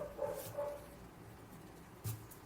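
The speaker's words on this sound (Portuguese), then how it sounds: "Os cachorros estão me tirando a concentração." Dogs bark in the distance, a few short, faint barks and yips heard indoors against a quiet background, with no one speaking.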